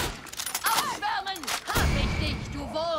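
Several sharp gunshots ring out in the co-op shooter Far Cry 6, close and loud, scattered across a few seconds amid game effects and voices.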